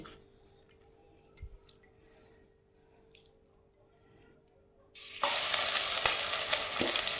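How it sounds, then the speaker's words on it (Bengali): Rui fish pieces rubbed with salt and turmeric hit hot oil in a wok. After about five seconds of near quiet with faint clinks, a loud, sudden sizzle erupts and continues as an intense, close hiss. "মাছগুলোকে একটু ভেজে নেবো ভালো করে"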